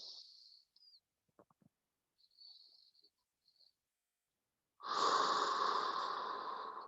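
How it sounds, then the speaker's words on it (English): Slow, relaxed breathing during a calm stretch break: soft, airy breaths with long quiet gaps, then a louder, sustained exhale near the end. "let's continue to just do some nice relaxing breathing here"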